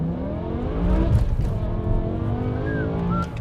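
A 2006 BMW M6 engine revs up and pulls hard from a rolling start, rising in pitch as it accelerates steadily, close and loud, with a brief tire chirp.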